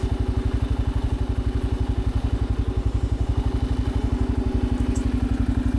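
A Kawasaki KLR 650 motorcycle runs steadily, its single-cylinder engine thumping in an even, rapid low pulse, close and loud, with faint wind and road texture over the top.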